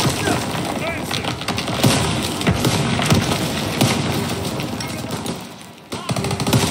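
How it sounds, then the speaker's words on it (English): Machine gun and rifle fire rattle in a Call of Duty WW2 battle, bursts of rapid crackling shots layered with explosions and chaotic noise, with voices heard intermittently over the combat. "Gunfire! We must be near our guys."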